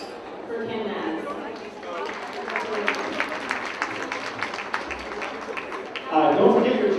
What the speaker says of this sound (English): a big round of applause for Ken Mass